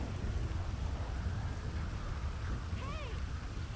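Thunderstorm ambience in GTA V with the LSPDFR mod: steady, loud rain and low rumbling thunder filling the whole stretch, with a brief wavering tone near the end.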